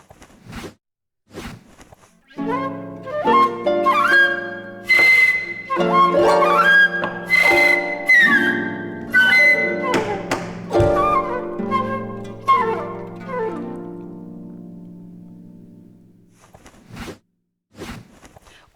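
A flute melody over plucked harp notes, moving up and down in a lively improvised phrase, with a few soft bumps before and after.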